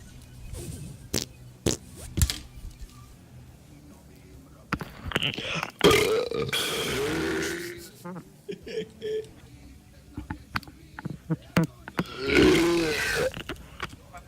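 Loud belches come one after another with a gap between them, some long and guttural with growling tones, and several sharp thumps and knocks mixed in.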